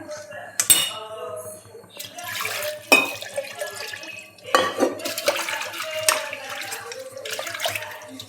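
Water is poured into a pot of thick village-style chicken curry amid repeated clinks and clatters of metal utensils and pans, with running water and splashing throughout.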